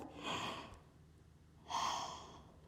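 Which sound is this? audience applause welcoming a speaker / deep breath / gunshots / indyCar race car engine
deep breath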